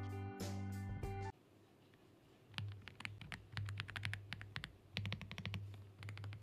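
Brisk typing on an AULA F75 mechanical keyboard with RGB lighting: dense, rapid clicky keystrokes run steadily for several seconds, close and clear, after a short burst of music at the start.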